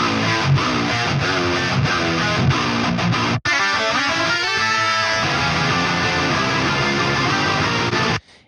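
Dry, reverb-free lead guitar run through a Toneforge Jason Richardson amp sim, playing a melodic line over dense distorted rhythm guitars and drums, loud and continuous with a brief dropout near the middle.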